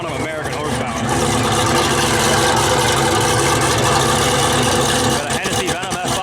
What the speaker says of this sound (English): Got a Hennessy Venom F5 running right here.